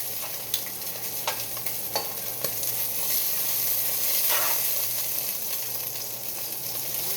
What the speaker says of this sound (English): So I will cook off the rest of this meat.